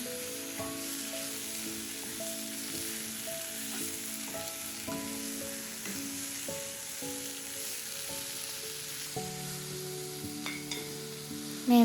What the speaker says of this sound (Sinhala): අපි දැන් මැරිනේට් කරගත්ත chicken ටිකත් ඒකටම එකතු කරගන්නවා.